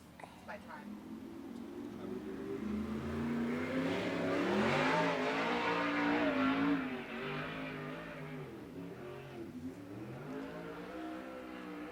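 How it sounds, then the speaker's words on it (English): A USAC Southwest sprint car engine roars through a qualifying lap at Central Arizona Speedway, swelling to a loud, revving peak midway and then easing off, with an announcer talking over it throughout. "So far, Steve Sussex Jr. has got the fastest sprint car in the qualifying lap."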